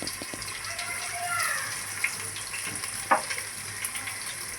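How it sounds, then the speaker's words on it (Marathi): Ginger garlic paste sizzling in hot oil in a pan while pulao is being cooked, a steady close hiss with a few small pops and stirring scrapes, no talking. "त्याच्याबरोबरच आपण अद्रक लसूणचं पेस्ट घालूया."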